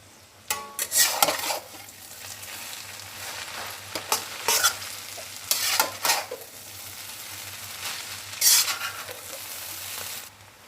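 Egg noodles are stirred in a pan with soy sauce, vinegar, tomato ketchup and ajinomoto: scraping, tossing bursts with a soft sizzle, pausing between strokes over a low steady hum.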